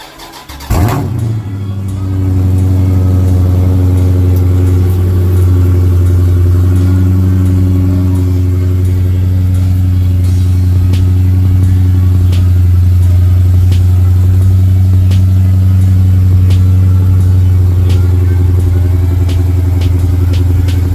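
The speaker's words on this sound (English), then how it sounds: "All right, ladies and gentlemen, cold start." A 2017 Dodge Charger Daytona 392 cold-starts with a sharp crank and loud revving flare, then settles into a deep, steady, rumbling idle that runs on close and loud.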